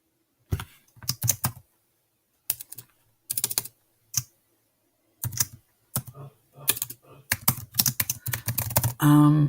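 Bursts of typing on a computer keyboard as a name is entered into a text box in Google Drawings, clattering keystrokes in short irregular runs separated by pauses, fairly close and clear.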